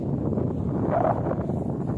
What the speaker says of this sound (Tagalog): Kaya lang sobrang hangin.